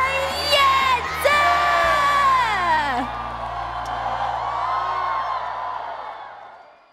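A large crowd at a 2023 New Year's Eve gala whoops, screams and cheers loudly to welcome a singer, the shouting swelling at first and then slowly fading out over a low musical drone.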